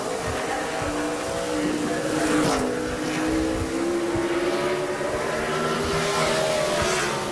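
A NASCAR Busch Series stock car engine roars steadily through a qualifying lap in the 2007 Kroger 200 at Indianapolis Raceway Park, pitch rising and dipping through the corners, loud and continuous with crowd and track noise beneath.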